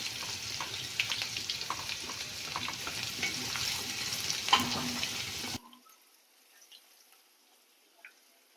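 Cumin, curry leaves, coriander and asafoetida crackle and sizzle loudly in hot tempering oil for a Maharashtrian-style bitter gourd dish, a steady close spitting hiss that cuts off abruptly to near quiet.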